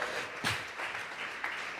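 A church congregation at a Sunday service applauds together, a dense, moderately loud wash of hand clapping with a couple of brief swells.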